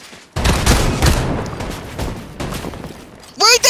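Gunfire in the video game Fortnite, loud bursts of shots spread across the clip under and between bouts of talking, ending with a sharp, bright sound effect.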